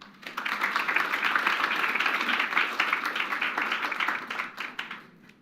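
An audience at a spring 2018 trainee research presentation event gives a big round of applause, dense clapping building quickly and holding strong for several seconds before tapering off, with no talking over it.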